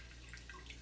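Water poured gently over orchid roots, a soft, faint trickle and drip running steadily through the moment with no talking.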